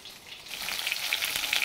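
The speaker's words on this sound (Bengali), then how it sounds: "এইভাবে এভাবে লাল লাল করে ভাজবো" Banana-flower kofta frying in a pan, turned to brown on each side: a soft but steady close sizzle that swells slightly and crackles lightly through the short stretch, with no speech.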